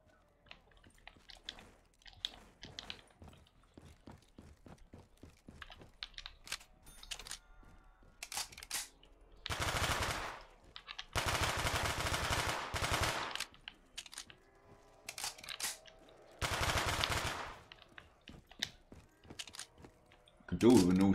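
Automatic weapon fire rattles in repeated bursts, some short and some sustained for a couple of seconds, in a Black Ops 3 zombies survival match, with a player talking in between.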